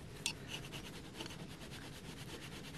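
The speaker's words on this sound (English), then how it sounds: "Some more gasket right in there. See how that just peels right off?" An old gasket is scraped and peeled off the engine of a 1966 Ford F250 truck during a water pump job: a steady close rasping rub with one brief sharp scrape near the start, and no voices.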